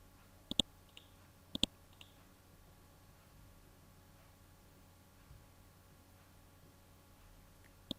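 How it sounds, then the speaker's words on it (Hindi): Sharp computer mouse clicks press the OK button while a typing tutor program is being installed. A few quick clicks come in pairs, separated by quiet pauses, with a faint hum behind them. "ओके का बटन प्रेस किया।"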